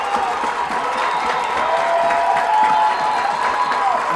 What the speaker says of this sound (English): this DeSoto crowd is getting on their feet right now.